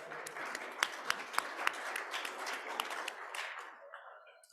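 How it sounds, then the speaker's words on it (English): A Raleigh Kiwanis club audience applauds members' birthdays: steady, dense clapping from a room of people, with a few sharper individual claps standing out before it tapers off and fades away at the end. "Let's give them a round of applause."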